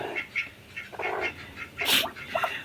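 High, thin peeping chirps from a newly hatched duckling, just out of its shell, repeated in short bursts with a louder squeaky call near the end, close by.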